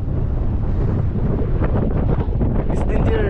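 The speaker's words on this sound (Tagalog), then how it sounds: "Malakas ang hangin din." Strong wind roars steadily across the microphone at an outdoor bike jump line, a dense, constant rush that never lets up.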